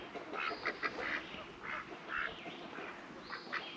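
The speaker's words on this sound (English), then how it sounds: "Being attacked by ducks." Ducks quack outdoors in a short run of loud, nasal calls close by, with no one talking over them.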